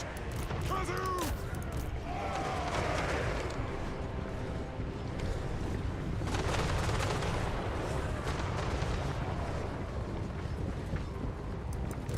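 Volleys of gunfire from dwarf ranged units in a Total War: Warhammer battle, dense crackling shots rolling continuously through the clip over battlefield din, with a loud shout heard early on.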